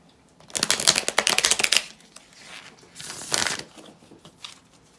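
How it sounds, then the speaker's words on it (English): Close, crisp riffling of a deck of tarot cards being shuffled, a dense burst followed by a shorter second shuffle, with no talking. "The shuffling noise caused him to go"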